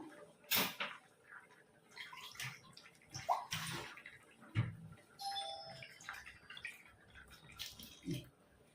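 Water poured into a cooking pot of mango pulissery with ground paste, in a few short, faint splashy bursts, with light clinks of utensils between them.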